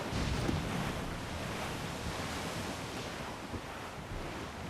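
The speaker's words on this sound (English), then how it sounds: "This is a storm. There's only big waves" Storm at sea in Assassin's Creed 4 Black Flag, with big ocean waves crashing and a steady roar of wind and surf running loud and unbroken throughout.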